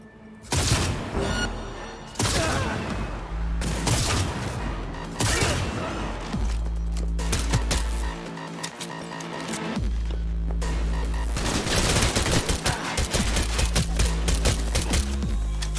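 Rapid pistol gunfire in a first-person video game, loud bursts of sharp shots in clusters with brief pauses, over a steady low electronic hum and game sounds, no talk.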